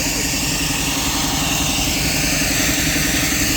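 Belarus MTZ tractor engine running steadily in boggy, swampy ground, a loud, close, continuous low rumble with rhythmic mechanical vibration throughout.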